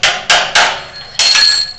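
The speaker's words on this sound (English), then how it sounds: "You'll take the drift key and a hammer," Four sharp metallic hammer blows on a drift key, knocking the chuck off a Grizzly drill press with a Morse taper, close and loud with short pauses between strikes and no talk.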